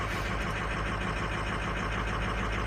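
A truck engine idling after a cold start, a steady, dense mechanical rumble that holds even and close for the whole stretch, with no voices over it.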